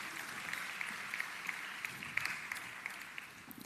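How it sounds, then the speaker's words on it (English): Audience applause at a university graduation ceremony in Colombo, a soft, distant, continuous patter of clapping from a large hall crowd, with a few sharper individual claps standing out. "Please put your hands together and give the presentation party a round of applause."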